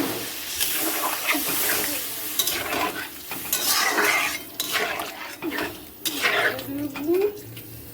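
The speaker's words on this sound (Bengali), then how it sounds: "আলু ডিম সব একসঙ্গে নেড়ে চেড়ে জল ঢেলে দেবো" Potatoes and eggs stirred in a pot of spiced masala with water added, giving busy close scraping, clattering and splashing with sizzle and bursts of utensil noise against the pan.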